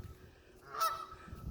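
A single goose honk rings out in a U-shaped courtyard, echoing off the buildings, a short moderately loud call against a quiet background.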